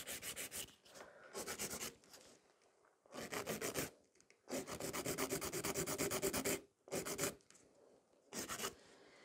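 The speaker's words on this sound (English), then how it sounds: "So quite a lot of filing, tapering." Nail file rasping against sculpted fiber gel nails, tapering them into a coffin shape and straightening the free edge. Close, dry scratchy strokes come in bursts of repeated back-and-forth filing, separated by short pauses, with no talking.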